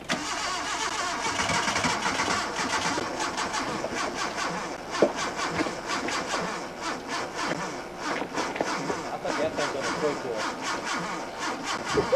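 A vehicle engine's starter cranks repeatedly with a rapid grinding, chugging rhythm as the engine struggles and fails to catch, loud and close throughout, on a trip in the Colorado mountains.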